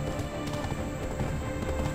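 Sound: horse hooves while riding in video game Black Desert

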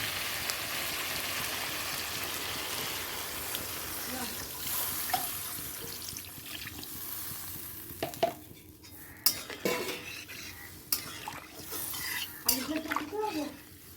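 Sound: water poured into pan of hilsa fish curry cooking

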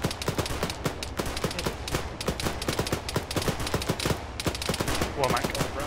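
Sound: gunfire in video game Arma 3

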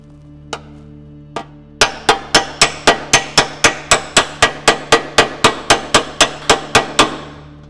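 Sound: hammer striking dolly on sheet metal

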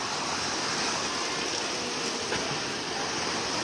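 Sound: rain falling

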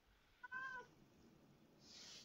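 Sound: cat meowing

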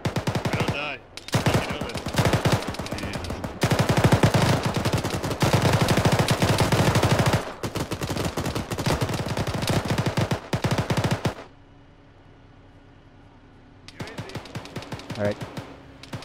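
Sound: gunfire, rounds landing around player in ShackTac video game

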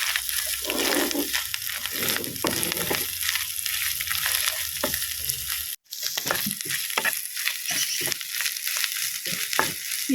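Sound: grated coconut being fried and stirred in pan

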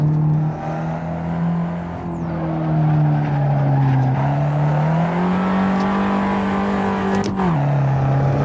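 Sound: Fiat 500 Abarth turbocharged engine in a racing video game

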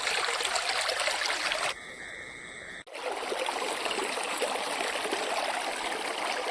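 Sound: small stream of flowing water

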